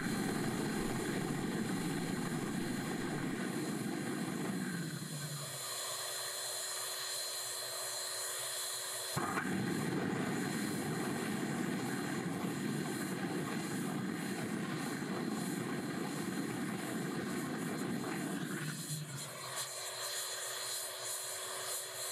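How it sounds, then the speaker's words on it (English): Foundry furnace burner roaring at full power, its steady broadband rush dropping away twice as the fuel is cut, then surging back loudly each time it is switched on again. "Here is the furnace going full tilt, but with the fuel supply being switched off and on intermittently."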